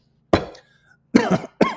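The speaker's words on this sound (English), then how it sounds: "Genuinely was choking on my coffee." Three bursts of harsh, sputtering coughing from someone choking on coffee, close up, with short pauses between them.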